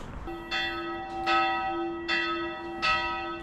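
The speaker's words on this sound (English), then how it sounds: "It's noon, so lots of bell tolls." Church bells toll at noon in Petrovaradin, four loud ringing strikes spaced about a second apart, each leaving a long humming resonance that carries across the open air.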